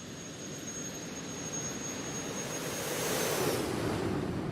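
Airliner flyby in the X-Plane 12 flight simulator after takeoff in strong winds: a steady, broad jet-engine roar that swells louder toward the end as the aircraft passes, with a faint high whine running through it and no talk.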